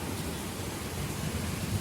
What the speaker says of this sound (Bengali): বৃষ্টি দেখুন,